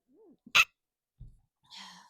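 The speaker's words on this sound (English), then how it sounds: "Had to sneeze twice." A single sharp sneeze bursts out, preceded by a small breathy inhale and followed by quieter breaths and a faint sigh-like exhale.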